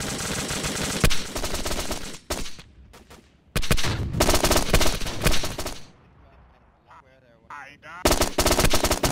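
Loud machine gun fire rattles in long bursts during a bunker assault in the military video game Arma. Short pauses separate the bursts, and a quieter stretch with faint other sounds falls near the end.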